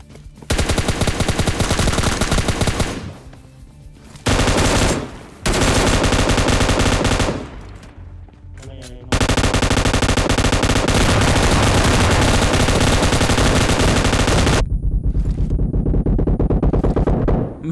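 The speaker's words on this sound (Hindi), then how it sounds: "मेरा टीममेट यहाँ पे इस बंदे पे 100 गोली बरसा देता है" Automatic weapons fire in the PUBG Lite battle royale game comes as long, loud, rapid bursts, broken by a few short pauses and softer gaps.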